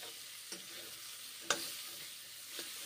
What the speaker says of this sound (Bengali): চিকেন ফ্রাই করে নিচ্ছি, আদা, রসুন, পেঁয়াজ, গাজর ফ্রাই করে নিচ্ছি।